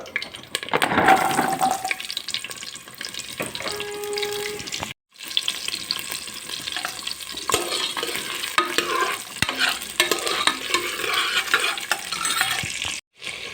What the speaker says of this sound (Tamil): இப்போ ரெண்டு கைப்பிடிக்கு சின்ன வெங்காயம் போட்டுக்கலாம்